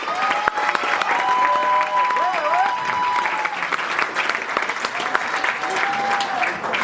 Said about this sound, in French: On peut encore les applaudir à cet effort.